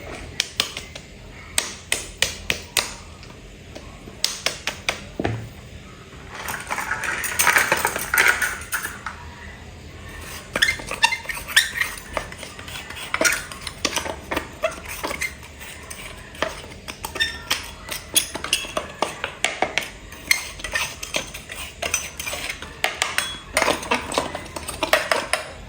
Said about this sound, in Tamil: ஹேண்ட் விஸ்கால் வந்து சீனியையும் முட்டையும் உண்டா அடிப்போம்.